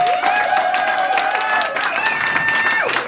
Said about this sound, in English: So please give her and receive her with an amazing applause to Marsha De Salvatore